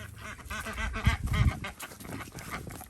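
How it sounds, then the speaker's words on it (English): Domestic ducks quack in a garden yard, a run of nasal calls close by with a couple of louder quacks in the middle, over a low background hum and no talking. "Duck's got a little scared out into the garden area"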